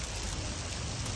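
Hail falls at Seal Beach during a thunderstorm as a dense, steady hiss of pelting ice, loud and unbroken, with no voices.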